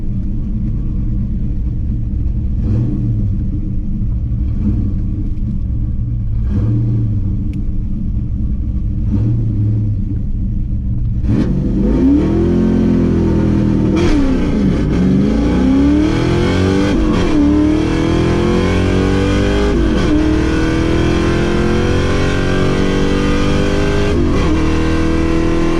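An LT1 Camaro on a track day, its engine rumbling steadily before sweeping up through repeated revs and gear changes, loud and close, with no talk over it.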